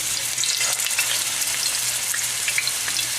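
Eggplant fries in hot oil with steady, dense sizzling, close and continuous with faint crackles throughout.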